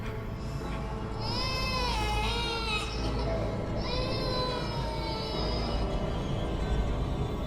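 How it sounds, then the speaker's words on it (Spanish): A newborn baby cries in a sound effect, two long wavering wails with rising and falling pitch set against a low, constant background rumble. "escuché un llanto humano,"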